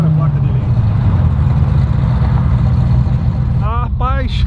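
Ferrari 458 engine roaring loud and steady throughout, a sustained low throaty drone with rising harmonic sweeps near the end as it revs, close by.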